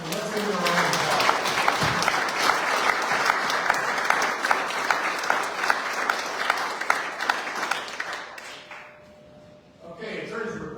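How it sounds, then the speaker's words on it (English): Sustained audience applause at a village board meeting honoring community youth volunteers, steady and full for about eight seconds before easing off, with a voice starting to speak near the end. "So let's give them a round of applause."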